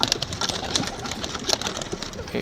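A flock of male racing pigeons out for training coos and calls continuously, with soft throaty notes and brief chirps layered close together under faint background noise.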